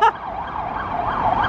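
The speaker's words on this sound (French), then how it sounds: "les sirènes d'ambulance elles sont stylées" Ambulance siren on a street in Korea, wailing up and down in a steady repeating sweep, moderately loud and close, with faint traffic rumble beneath.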